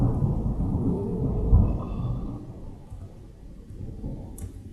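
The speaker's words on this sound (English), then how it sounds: "That is some thunder." Deep rumbling thunder, heavy low roll strongest early and fading gradually, with no voices over it.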